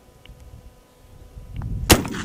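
A single Civil War–era Smith carbine rifle shot fired outdoors, one sharp loud crack near the end after a quiet stretch of faint background noise, with a brief echoing tail.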